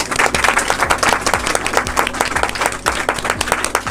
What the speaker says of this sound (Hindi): सब लोग इसके लिए एक तालियों से स्वागत करें।